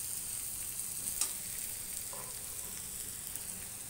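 Tomatoes tossed into ginger, garlic and green chilli masala frying in a pan for Bangda fish sukha, giving a steady close sizzle with a soft stirring clatter and a brief sharp pop.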